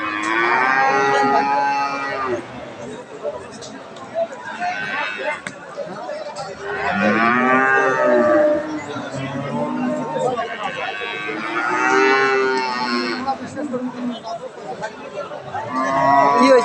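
Dairy cows, Friesian and crossbred, moo repeatedly in long, loud calls close by, over a murmur of people chatting and bargaining in a busy village livestock market crowd in Aftabganj.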